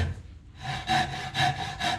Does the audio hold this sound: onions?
no